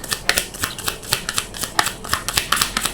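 Tarot cards being shuffled by hand, a quick run of crisp riffling flicks and soft slaps repeating in uneven bursts, close and clear with no talking.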